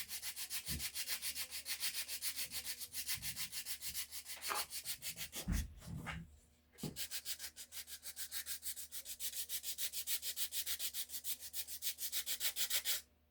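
Sandpaper rubs by hand over a wooden axe wedge in quick, even back-and-forth strokes, close and steady, with a brief pause and a few knocks midway before the rhythmic sanding resumes.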